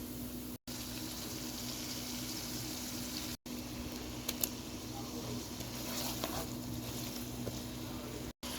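Chopped onions frying in oil in a home kitchen, a steady soft sizzle running evenly throughout at low level, with no talking.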